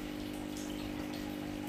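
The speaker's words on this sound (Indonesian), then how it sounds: "air terjun aquascape berhasil." A small waterfall runs inside a beginner's aquascape aquarium, a continuous close splashing trickle with a steady pump-like hum beneath, unbroken throughout.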